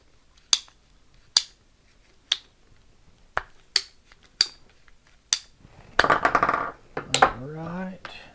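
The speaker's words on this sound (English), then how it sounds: "Your PVC cutter." A PVC cutter bites through PVC pipe at a dinner table. About seven crisp, separate ratcheting clicks come at uneven intervals, then a voice speaks briefly near the end.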